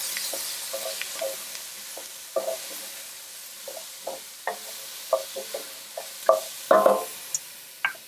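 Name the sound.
finely chopped celery sautéing in a pan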